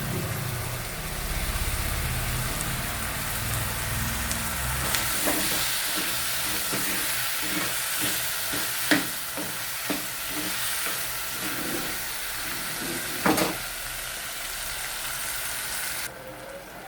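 Tomatoes stirred and frying with softened onions in a hot pan, a steady close sizzle and hiss with scraping stir strokes and occasional utensil taps throughout.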